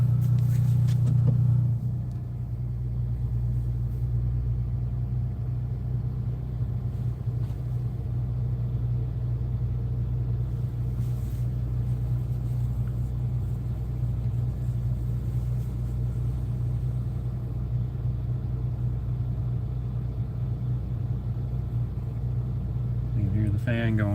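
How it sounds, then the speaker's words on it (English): A truck engine idles in a steady low rumbling drone that holds evenly throughout, with a voice heard faintly over it. "My friggin' truck's running too"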